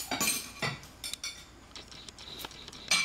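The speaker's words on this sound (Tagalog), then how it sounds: "akin na po liligpitin ang inyong mga plato at mga kubyertos" Plates and cutlery being cleared from a dining table: bright metallic clinks and ceramic knocks in an irregular series, close and crisp, with no talk over them.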